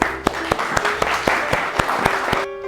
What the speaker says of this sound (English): Let's give Maddie a round of applause.